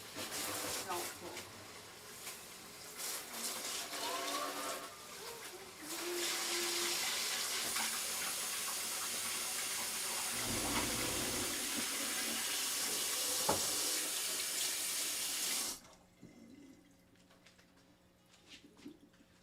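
Tap water gushes steadily into a big wide kitchen sink for about ten seconds, a loud continuous splash that then cuts off abruptly, with a voice talking before and over it.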